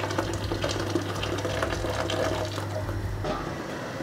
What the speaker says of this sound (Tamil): நான் கொதி தண்ணியை கேத்துலேருந்தே ஊற்றுறேன்